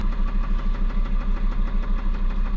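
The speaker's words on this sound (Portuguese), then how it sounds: "Diminuiu bastante agora aqui o barulho da batida" Fiat Marea car engine idling with a worn, knocking motor, a loud steady rhythmic chugging pulse with regular beats, close up and alone without speech.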